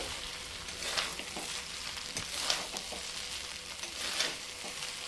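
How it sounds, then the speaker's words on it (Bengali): Fried rice with vegetables is stirred in a pan with ghee. A soft, quiet sizzle runs under three scraping sweeps of the spatula at a slow, regular pace. "এবার আমি ভালো করে নাড়াচাড়া করে নেব, নিয়ে মিশিয়ে নেব সবজির সঙ্গে"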